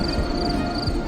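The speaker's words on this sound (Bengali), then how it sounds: "ট্রেন প্ল্যাটফর্মে ঢুকল।" A train pulls into a platform at a junction on a foggy night, heard as a loud, steady rumble with low, rolling pulses that runs through the whole short moment without any voices.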